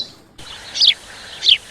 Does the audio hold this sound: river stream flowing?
no